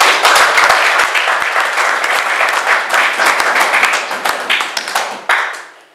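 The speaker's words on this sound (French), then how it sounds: "Je demande d'applaudir pour lui." An audience at a Congolese political gathering breaks into loud, dense applause that holds steady for several seconds, close and crowded, with scattered sharper claps before it thins out at the end.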